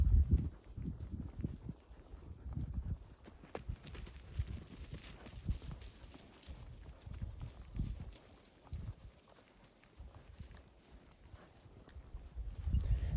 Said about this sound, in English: So he's riding a horse we call Glade